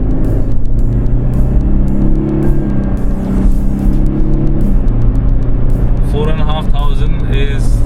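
A Toyota Land Cruiser 300 GR Sport accelerating hard from around 50 km/h, a loud rumbling engine note rising in pitch and pressing on steadily from inside the cabin.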